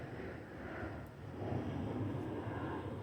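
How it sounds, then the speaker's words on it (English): A broad, steady jet roar fills the air over a residential neighborhood at Lake Nona, Orlando, swelling slightly louder partway through as a plane passes overhead. "you can hear the plane flying over again"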